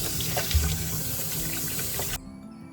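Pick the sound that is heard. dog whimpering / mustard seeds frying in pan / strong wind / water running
water running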